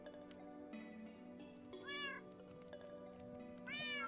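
Several cats meow in Minecraft Bedrock Edition, two clear rising meows about two seconds apart standing out over quiet game ambience and background music.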